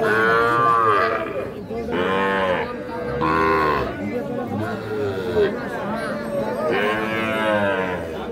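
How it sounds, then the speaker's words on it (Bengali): Young bull calves at a cattle market low repeatedly, several loud drawn-out moos in a row, close by, with people chattering in the background between calls. "সবই ষাঁড় বাচ্চা। বকনা আছে পাশে"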